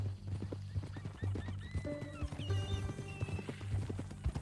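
Rhythmic clip-clop of horse hooves close by in the video game Red Dead Redemption 2, followed by a loud drawn-out whinny rising over the steps.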